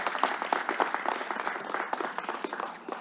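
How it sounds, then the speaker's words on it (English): An audience at a New York governor's news conference breaks into a sustained round of dense, steady applause, loud and close, with many hands clapping together for about three seconds. "Let's give him a round of applause."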